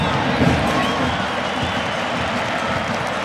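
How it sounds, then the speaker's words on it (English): At a Real Salt Lake vs Inter Milan soccer match, a stadium crowd applauds in a steady, broad wash of clapping and crowd noise that holds evenly throughout. "The crowd applauding Boyd Ogwanu over there as he battles Bessa along the far sideline."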